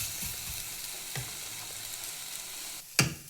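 Ingredients sautéing in a pan for an egg puff filling, a soft steady sizzle close by with a few light stirring taps and one sharp clatter near the end, fairly quiet and free of talk.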